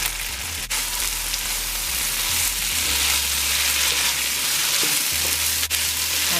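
Chicken giblets sizzle loudly in a hot pan as fresh onion is added, a dense, continuous frying hiss with a low, rumbling hum underneath and a couple of sharp clicks.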